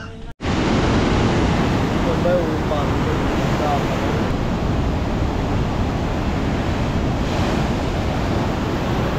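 Strong ocean waves at Morong, Bataan roar continuously as broad surf, with wind buffeting the microphone throughout after a brief cut at the start.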